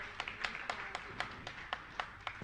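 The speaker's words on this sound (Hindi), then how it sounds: "जोरदार ताली बजाकर इनका सम्मान करें" An audience at a religious discourse gathering claps in sharp, evenly spaced claps that sound thin and somewhat distant.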